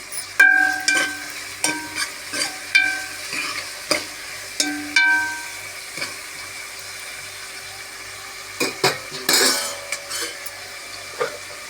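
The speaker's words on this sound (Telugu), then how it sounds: "ఈ ఉల్లిపాయలు ఫ్రై అయిన తర్వాత కొంచెం" Onions fry in a pan with a soft, continuous sizzle, broken by repeated sharp clicks and scrapes of a utensil stirring against the pan, with no one speaking.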